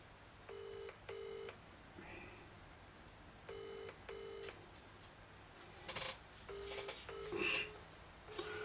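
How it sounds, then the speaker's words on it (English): A phone is dialed in two bursts of touch-tone beeps, followed by ringing tones and faint clattering handset noises. The sounds are quiet and heard alone. "Let's phone him."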